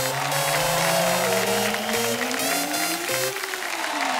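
Studio audience applause and cheers on The Kapil Sharma Show welcome a singer at a Diwali music episode, a steady wash of clapping blended with loud band music and sweeping tones throughout.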